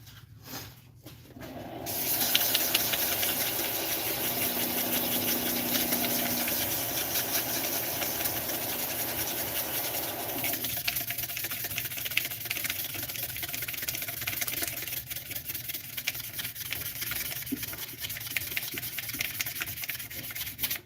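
Light sanding of a turned pen blank spinning on a wood lathe with 400-grit abrasive, a steady soft rubbing hiss over the lathe's low motor hum that runs continuously for most of the stretch.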